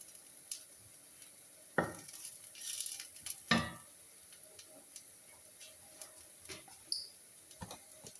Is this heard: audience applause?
no